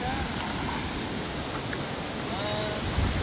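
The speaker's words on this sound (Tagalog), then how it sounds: "Wow, ito na yung falls." A waterfall rushes in a steady, even roar, heard from some distance through wind noise on a breezy, cool trail, with no one speaking.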